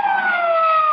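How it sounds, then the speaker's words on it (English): A police siren wails steadily and loudly in an old-time detective radio drama, its rising and falling tone sustained without pause and with no voices over it. "police siren."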